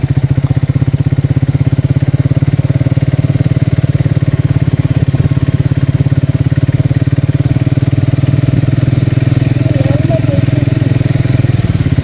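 A motorcycle runs steadily on a narrow sandy village road during a ride from Kolkata to Purulia, its engine droning loud and close throughout with a constant rumble and no pauses.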